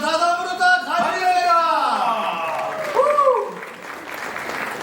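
Applause from the audience at a Marathi film event for Chandramukhi rises under a prominent amplified voice, with crowd clapping spreading beneath the talk.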